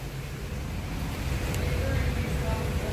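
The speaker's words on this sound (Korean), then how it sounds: "이그조스트 파이프에서 미세하게 에어 새는 소리가 난다는 것은 지금 배기 밸브가 이상이 있다는 거예요" Compressed air hisses faintly out of a car engine's exhaust pipe through a leaking exhaust valve, with a broken valve spring causing misfires. The hiss is a steady, soft, continuous rush with no break.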